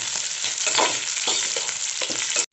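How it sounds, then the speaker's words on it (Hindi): Diced capsicum sautéed in a pan, a loud, close sizzle with brisk stirring scrapes pulsing through it, cut off abruptly at the end. "हल्का सा सॉटे करेंगे 1 मिनट तक।"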